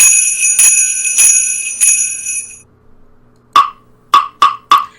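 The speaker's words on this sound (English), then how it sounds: "Jingle bells." Jingle bells shaken in three quick bursts, bright and close, followed after a pause by four hollow knocks on a wooden block.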